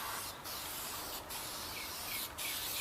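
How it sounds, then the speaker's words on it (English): A spray can hisses in long, steady bursts onto drywall ceiling joints, with three brief pauses, close by. "So I just spray it on the joints"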